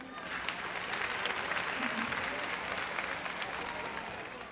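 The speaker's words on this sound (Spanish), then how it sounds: "Bebé Compañía, aplauso." An audience claps warmly after a flamenco-style dance at a children's stage show, the dense applause swelling quickly and holding steady throughout with a few faint voices mixed in.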